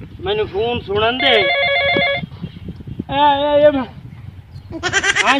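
A telephone ringtone sounds in several bursts of warbling electronic tones, loud and close, with voices and background noise between them.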